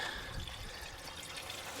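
Coolant pouring steadily out of an International tractor's radiator once the bottom drain plug is dropped: a continuous, close splashing gush of liquid with no pauses.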